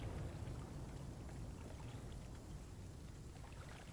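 A rainstorm in the survival game The Flame in the Flood pours down as dense, steady hissing rain, constant and fairly soft with no voices.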